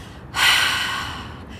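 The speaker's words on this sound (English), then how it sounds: "Imagine like you're fogging a mirror." A single long, breathy open-mouthed yoga exhale, like fogging a mirror, fairly close and steady, trailing off gradually into quiet.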